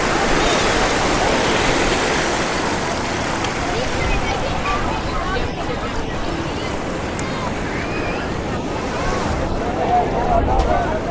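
Loud, continuous rush of ocean waves washing up the shore at Somnath, with wind buffeting the microphone and indistinct voices mixed into the surf.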